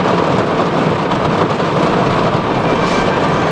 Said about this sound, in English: Sorry if the rain is a little bit loud.